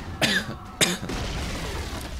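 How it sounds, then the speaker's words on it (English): Two sharp, close coughs in quick succession, then a low muffled rumble of background noise. "Sorry, I'm coughing."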